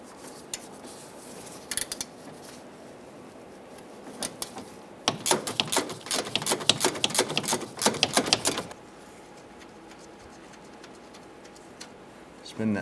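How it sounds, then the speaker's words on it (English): Swivel head ratchet with a 10mm socket loosening a clamp bolt on a 2005-2010 Chrysler 300 power steering line, heard as a close, fast burst of ratcheting clicks lasting a few seconds, with a few isolated clicks before it. "We want to loosen and remove that bolt holding that clamp."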